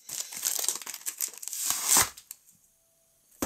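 Close, crisp crinkling of a plastic bag in bursts of handling for about two seconds, then near silence with a brief rustle at the end.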